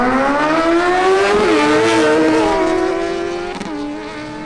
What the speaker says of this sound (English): Christian Alcala on his Suzuki GSX-S750 goes up against Juan Manzano on his Kawasaki Ninja ZX6R